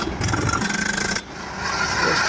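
A borewell drilling rig drives rods into soil at a new house site, giving a rough grinding rasp from close by that drops off abruptly, then a steadier lower mechanical drone that builds again toward the end.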